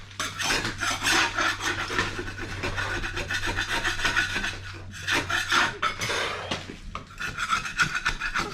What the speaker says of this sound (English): You scrape it, you score it